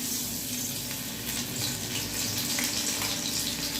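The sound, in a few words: gram-flour coated pumpkin flowers frying in oil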